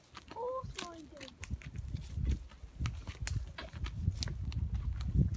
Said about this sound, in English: I'm going to show you me horse riding.